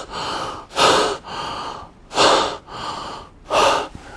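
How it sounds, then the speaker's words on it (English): A child, worn out after a hard sprint, pulls in deep, rapid breaths: three loud gasping inhales alternating with softer exhales in a steady, heaving rhythm, close and without speech. "very deep and rapid breathing"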